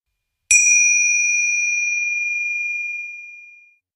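A Tibetan ritual bell is struck once in a quiet setting, ringing out with a clear, pure metallic tone that decays slowly over about three seconds into silence.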